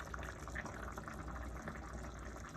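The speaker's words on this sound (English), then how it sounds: "It is still bubbling away because the stove is hot." Chicken soup simmering in a pot on a hot stove gives a faint, steady bubbling and gurgling, soft continuous liquid burbles heard alone at close range.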